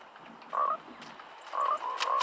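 A frog in Fortnite gives a series of clear, close croaks, one early, then a quick cluster of three near the end, with no voices over them.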